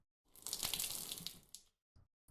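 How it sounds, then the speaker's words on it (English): Water draining out through an opened valve on an essencer in the video game The Last Door, a steady rushing gush lasting over a second, then a couple of short gurgling drips as it empties. "When I open the valve, I will drain the water until all of the water has been removed."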